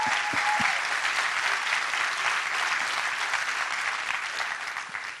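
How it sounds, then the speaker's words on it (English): Warm, steady audience applause for Mary Ann at the Accelerate 2017 civic gathering, a dense crowd clapping continuously for several seconds and tapering off slightly at the end. "One more round of applause for Mary Ann."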